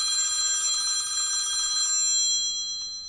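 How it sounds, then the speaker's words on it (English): A telephone bell rings in a loud electronic trill with bright harmonic tones for about two seconds, then stops and leaves a quiet room; no one speaks over it. "The phone's ringing again."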